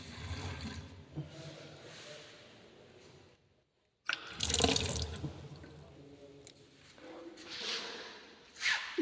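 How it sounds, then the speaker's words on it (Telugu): Water runs from a newly fitted tap on a plumbing water line, a faint splashing flow that stops briefly and then gushes again in uneven bursts. "చూడండి, వాటర్."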